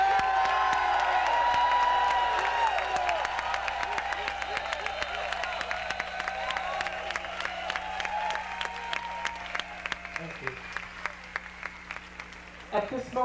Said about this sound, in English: I want to hear the gay men in the crowd make a very gay noise that says thank you.